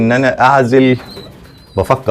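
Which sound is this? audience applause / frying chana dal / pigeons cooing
pigeons cooing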